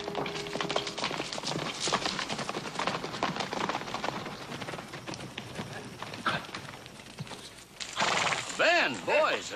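Horses arrive with hooves clip-clopping and a whinny near the end, moderately loud under overlapping voices and outdoor bustle.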